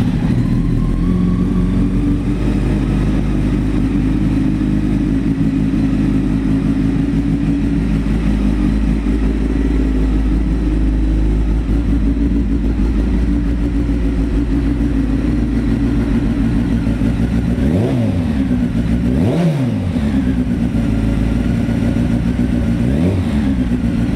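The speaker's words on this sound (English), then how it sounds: "this bike starts and runs very, very well" A yellow 1998 Honda CBR900RR sport bike with about 18,600 miles idles loudly and steadily up close, its engine running throughout, then revs sharply a few times near the end.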